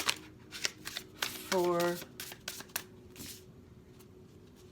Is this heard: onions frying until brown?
no